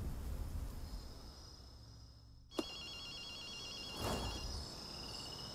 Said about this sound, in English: Hey, Akito, you hear a phone ringing?